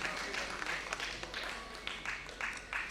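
Applause from an audience at an Indian classical music performance, welcoming performers on stage with steady moderate clapping and scattered sharper claps, some faint voices underneath.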